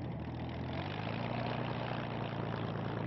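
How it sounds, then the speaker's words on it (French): Spitfire's propeller engine idling as the plane taxis on the runway, a steady low droning rumble, fairly faint and even throughout. "la moindre pression sur la manette de gaz suffit à faire bondir l'avion"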